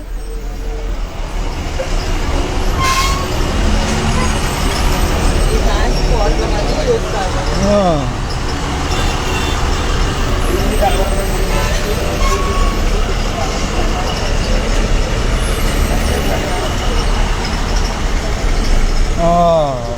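Onboard a Raichur bus crawling through Vijayawada traffic: a loud continuous engine drone and road rumble, with passing vehicles, a brief hiss and horn-like tones, and voices talking now and then.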